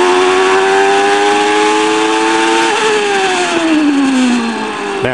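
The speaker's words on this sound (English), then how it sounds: "Listen to the sound of the engine." Michael Schumacher's Formula One racing car engine running with a faulty gearbox, a loud, sustained high-pitched whine that holds steady, then drops in pitch as the revs fall, with no talking.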